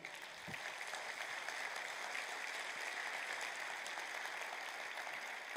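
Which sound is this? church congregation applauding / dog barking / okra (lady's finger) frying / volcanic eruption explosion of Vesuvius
church congregation applauding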